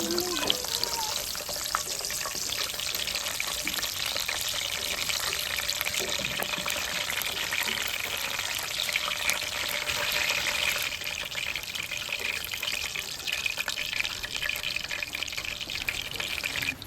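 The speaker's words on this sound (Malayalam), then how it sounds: "ഇനി കുറച്ച് ഉണക്കമുന്തിരി നമ്മൾ ഇത് വറുത്തെടുക്കണം കേട്ടോ." Raisins fry in sunflower oil for a Thalassery dum biriyani, making a continuous soft bubbling sizzle that stays low and even throughout, with faint background voices.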